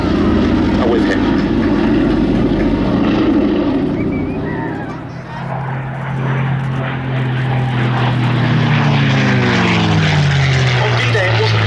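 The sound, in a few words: P-51 Mustang aircraft with Packard Merlin engine flying at airshow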